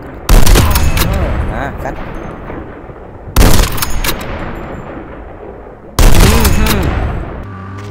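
Three sudden loud bursts of gunfire in Call of Duty Mobile, each followed by a long decaying rumble, spaced a few seconds apart, with brief speech in between.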